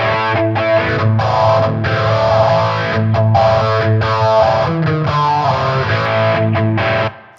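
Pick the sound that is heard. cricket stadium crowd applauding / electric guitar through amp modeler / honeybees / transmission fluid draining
electric guitar through amp modeler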